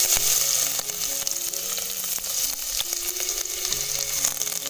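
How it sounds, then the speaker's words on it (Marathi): Garlic dropped into hot oil sizzles with a constant bright hiss, broken by occasional small pops and clicks, heard up close with no voices. "त्यात मी टाकते आता लसूण,"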